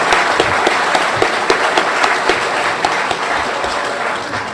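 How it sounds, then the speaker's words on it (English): A crowd at a chamber candidate forum gives county commission candidates a warm, continuous round of applause, with a few sharper close claps punctuating the steady roar. "One more round of applause for all of our county commission candidates tonight."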